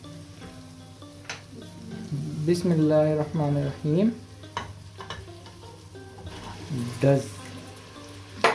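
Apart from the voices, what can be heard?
beef frying in a pot with garlic and ginger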